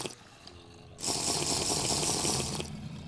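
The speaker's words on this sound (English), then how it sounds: "So we need to drink our water." Water running and splashing as it is drunk in the Minecraft FTB Blast Off mod, a loud steady wash of liquid starting after a second of quiet and tapering off near the end, with no talk.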